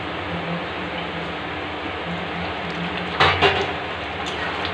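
A metal lid is set over a pan of paratha on the stove, giving one brief clattering clank midway through a steady sizzle, followed by a faint rattle.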